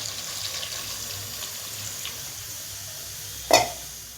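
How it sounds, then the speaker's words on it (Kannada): Water is poured into a pot of cooking vegetable sambar, a soft, faint trickling and sizzle that runs low throughout, ending in one brief sharp clink near the end. "ಇವಾಗ ಇದಕ್ಕೆ ನೀರು ಹಾಕ್ಕೊಂಬಿಡೋಣ."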